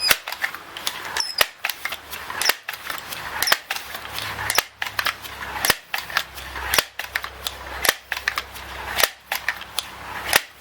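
Crosman M4-177 multi-pump .177 pellet air rifle being pumped ten times, a repeated series of sharp mechanical clacks and snaps at a steady rhythm, close and fairly loud with no voices.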